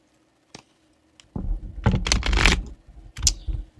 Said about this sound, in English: these cards do not shuffle well for me.